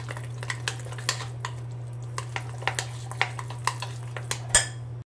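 A spoon stirs ragi batter in a bowl as a pinch of soda is mixed in, with regular clinks and taps against the bowl over a low steady hum.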